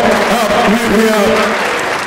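An audience at a Nebraska University event applauds for Thione Niang, a dense, steady wash of clapping held at even loudness throughout, with a voice sounding over it.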